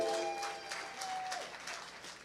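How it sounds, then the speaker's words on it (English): Applause from a gala audience honoring San Francisco's police chief Bill Scott, a steady patter of clapping hands filling a large room, fading slightly toward the end, with faint voices underneath. "stand up and get some applause"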